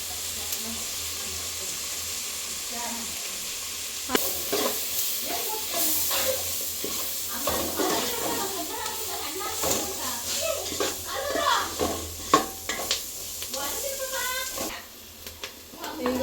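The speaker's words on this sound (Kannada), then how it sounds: "ಸಣ್ಣ ಸಣ್ಣ ಕಟ್ ಮಾಡಿರೋ ಏನು ಮರ್ಗೆಣಸು ಮರಗೆಣಸನ್ನ ಹಾಕಿ ಮಿಕ್ಸ್" Chopped cassava tipped into a spiced tempering in a hot pan and stirred together, giving a steady hiss and sizzle with scraping stirs, heard under continuous talking.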